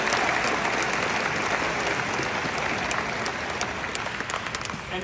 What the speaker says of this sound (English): Good clap for that.